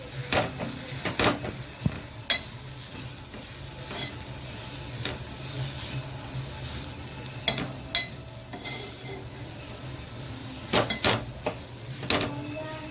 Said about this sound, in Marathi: त्याचा ओलेपणा जाईपर्यंत आपण हे व्यवस्थित परतवून घेणार आहोत खोबरं सारणासाठी